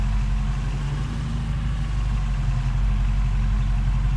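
A tractor engine idles in a farming video game, a loud, steady low rumble with an even, unchanging throb throughout and no voices.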